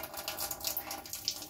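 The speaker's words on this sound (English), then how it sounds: "I want the water to come out of here. And right now it comes out" Water runs steadily out of a tap, pushed by line pressure, making a soft continuous hiss and splash that stays faint throughout.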